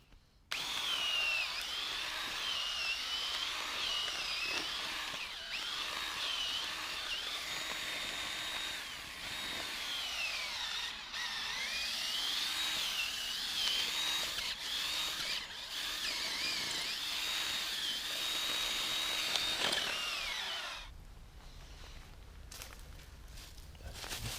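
A power drill with a large bit whines continuously for about twenty seconds, pitch wavering as the bit bites under load, then stops, leaving handling noises.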